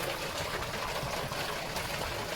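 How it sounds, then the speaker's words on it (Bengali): Steady, dense rushing hiss of heavy rain, continuous and fairly loud throughout with no pauses. "বাইরে কিন্তু ভীষণ বৃষ্টি হচ্ছে"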